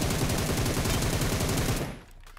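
An MG fires a rapid sustained burst in PUBG Mobile's Metro Royale mode, loud and dense, stopping abruptly near the end.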